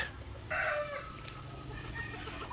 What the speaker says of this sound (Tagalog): ito yung mga inahin natin mga ka-farmers na pinaliguan